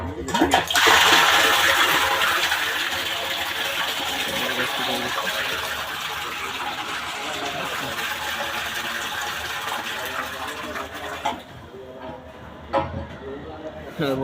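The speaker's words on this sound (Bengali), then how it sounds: "এই দেখো পানি আসবে, পানি আসছে" Water pumped by a motor up to the rooftop tank of a five-storey building gushes and splashes into the tank in a loud continuous rush that slowly eases off, with voices talking over it.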